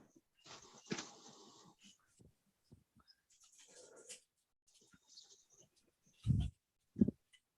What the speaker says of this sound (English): Okay, who wound the dog up?